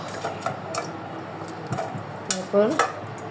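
Goat heads going into oil in a pressure cooker, with clinking of metal pot and utensils, a few soft clatters and a brief scraping knock near the end, moderately close.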